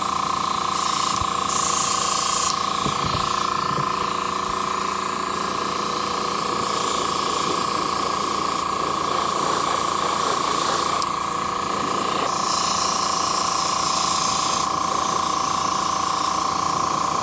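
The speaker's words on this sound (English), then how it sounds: "So I am now going to airbrush the metal" An airbrush spraying paint onto the metal of a DL-44 blaster prop, a steady close hiss of air running nearly continuously, with faint background hum and no talk.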